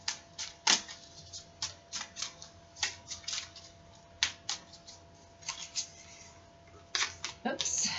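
Tarot cards are pulled and handled in crisp, repeated snaps and flicks, about a dozen short slaps spaced irregularly, close and fairly quiet, with a steady faint hum underneath.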